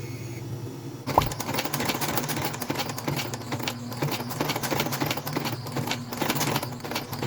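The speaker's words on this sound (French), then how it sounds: "On utilise le moulin Blake pour installer la semelle intermédiaire sur la botte." A Blake stitching machine sews the midsole onto a Blundstone boot, starting with a sharp clack after a quiet second, then running as a steady, rapid mechanical chatter of needle strokes, close and loud, with no talk.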